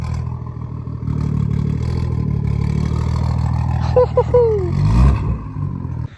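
A BMW M240i engine idles and blips close by with a lumpy, cam-like rumble, rising into a couple of sharp revs near the end.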